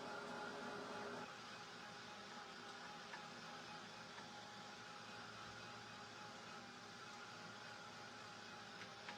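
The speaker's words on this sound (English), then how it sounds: "this dryer's starting to do the same thing that my last one did. Where it's going in and out." A household clothes dryer runs with a steady mechanical whir and hum. Its level drops noticeably after about a second, then carries on evenly and fairly close, with no talking.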